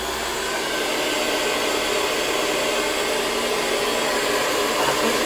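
A handheld blow dryer runs steadily on hair for the whole stretch, a loud, even broadband whoosh with no pauses and no talking.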